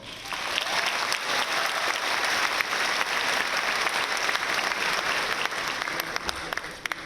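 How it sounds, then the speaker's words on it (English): A high school graduation crowd at Roosevelt High School's class of 2025 ceremony breaks into loud, continuous applause, a thick even roar of many hands clapping with a few crisp claps near the end. "Please give ourselves a round of applause for making it this far."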